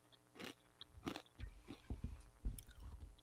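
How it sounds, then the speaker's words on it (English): Blue Heat Takis rolled tortilla chips crunch loudly between the teeth at close range, with several sharp bites followed by steady chewing and crackling. "They're very crunchy and loud."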